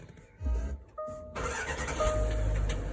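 After a starter repair, a Range Rover L322 Mk3 engine is started with the brake pedal held and the button pressed. There is a short burst of cranking and a pause, then it catches and settles into a steady, fairly loud idle.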